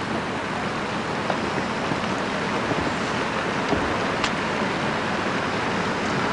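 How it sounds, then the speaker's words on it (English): A lake aerator sprays water on a golf course at an Australian Open tournament, a constant broad splashing hiss like heavy rain or surf, heard from a distance with no pauses. "And the aerator there, quite often used to stop the lake stagnating."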